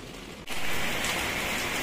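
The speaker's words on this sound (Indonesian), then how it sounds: "ini masih hujan ya cuacanya" Steady rain falling outside a childhood house, a dense broadband wash that starts abruptly after a brief quieter moment and then continues evenly and fairly close, with no voices.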